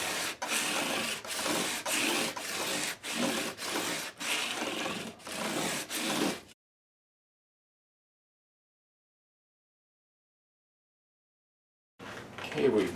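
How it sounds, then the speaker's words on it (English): Guitar frets on a Gibson J-150 or Guild D-50 are sanded with 320 grit sandpaper on a scrub block, giving close, rhythmic rasping strokes about every half second for six seconds, then silence before a brief return. "I'm going to start with 320 grit in this case and get rid of all of those tooling marks of the file."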